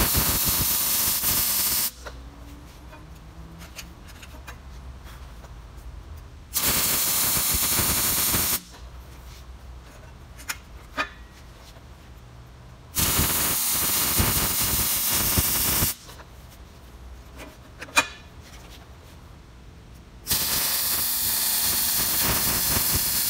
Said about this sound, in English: We're ready to weld.